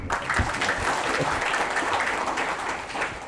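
A crowd at a university graduation ceremony claps steadily for a few seconds, a dense, even patter of many hands at moderate distance.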